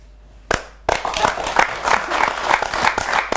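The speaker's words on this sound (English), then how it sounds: "we are clapping for both of you" Audience applause at a talk show, with a sudden start of brisk, close clapping that continues steadily, and voices talking underneath it.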